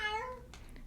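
A house cat gives one short, close meow that slides downward in pitch, followed by faint small rustles and clicks nearby.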